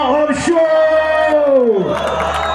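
A stadium crowd at a Pakistan vs Zimbabwe cricket match in Rawalpindi cheers a first wicket: loud, close sustained shouts and whoops rise and bend in pitch, with a brief burst of noisier crowd roar at the end.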